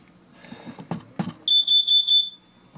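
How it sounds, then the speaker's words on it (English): A few low voices or clatter, then a sharp, piercing smoke alarm chirps five times in quick succession before falling quiet, in a bathroom under renovation. "Obviously the smoke alarm's working."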